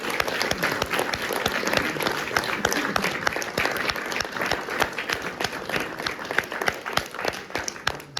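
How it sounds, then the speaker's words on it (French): An audience at a café debate on fossils from the Vaches Noires cliffs applauds the speakers. Dense, sustained clapping from many hands fills the room without pause. "Moi, je crois qu'on peut applaudir les intervenants."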